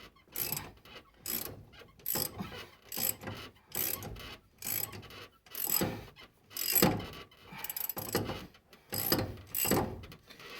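A ratchet wrench loosens bolts on an engine's timing chain cover, its clicking coming in about a dozen close, loud bursts with short pauses between strokes.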